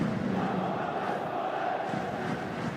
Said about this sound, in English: Great to hear some noise back at a Melbourne Victory home game